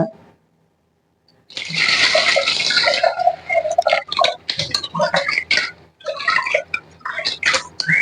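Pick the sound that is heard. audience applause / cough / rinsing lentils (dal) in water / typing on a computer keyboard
rinsing lentils (dal) in water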